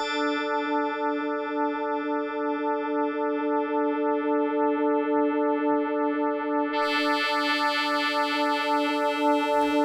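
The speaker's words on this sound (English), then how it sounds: "you can hear the wavetable changing in the background" A sustained synthesizer note with a wavetable envelope holds a rich harmonic tone, its timbre pulsing rhythmically as it sweeps through the wavetable, then brightening abruptly with a burst of high buzzy overtones near the end, alone and clear.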